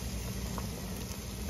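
Clams steamed in a boiling pot, a faint steady bubbling and light patter continuing evenly without pause.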